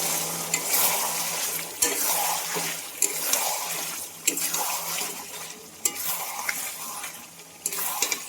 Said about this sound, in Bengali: মশলার সঙ্গে চিকেনগুলোকে ভালো করে কষিয়ে নেব